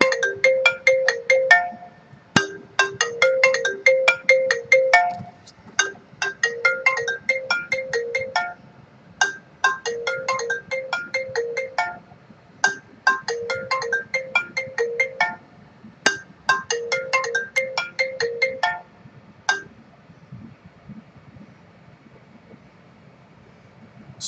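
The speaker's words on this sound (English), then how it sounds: "Sorry about that, my phone was ringing." A mobile phone ringtone plays loudly and alone, a bright repeating electronic melody in six evenly spaced bursts with short gaps between them, stopping abruptly before a quiet tail.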